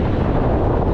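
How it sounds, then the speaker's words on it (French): Wind buffeting a microphone while riding a gravel bike along small coastal roads in Brittany, a steady loud low rumble filling the whole moment. "Bon, par contre là j'ai le vent dans la tronche."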